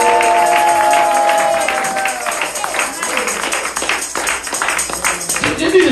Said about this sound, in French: Je vais entendre des vraies acclamations avant de continuer